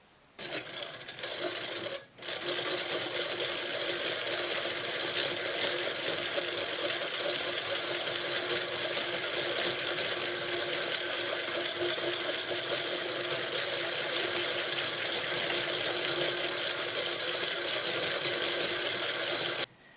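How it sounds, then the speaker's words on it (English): Fresh fishing line being spooled onto a baitcast reel, a steady, fast ratcheting whir that runs almost unbroken for the whole stretch after a short pause near the start, close and loud. "Now it is all spooled up with brand new line."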